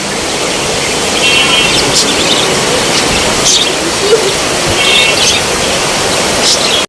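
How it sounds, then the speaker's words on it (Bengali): Rain falling steadily on garden plants, a dense continuous wash of hiss and patter close by, with faint bird chirps now and then in the background. "বৃষ্টির পানি দিচ্ছে, পানি লেগে গেছে।"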